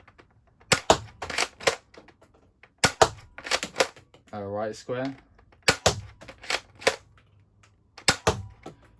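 Nerf Elite 2.0 Eaglepoint RD-8 blaster firing foam darts in rapid slam-fire bursts, a series of sharp close snapping shots in clusters, with brief talk between volleys.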